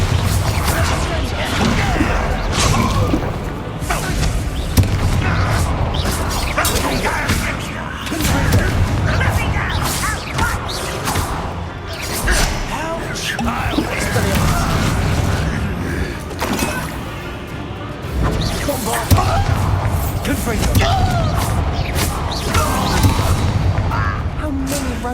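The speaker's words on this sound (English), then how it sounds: "Bombarda!" Bombarda spell blasts in the Hogwarts Legacy video game, repeated booming explosions and thuds in an ongoing battle, with a voice talking over the barrage.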